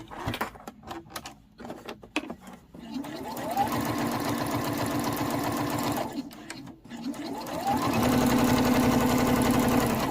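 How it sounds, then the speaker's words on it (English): Sewing machine stitching a cross-body sling bag, bursts of rapid close mechanical chatter that stop and restart, with a short pause midway and a steady fast run at the end. "and then turn and then start stitching"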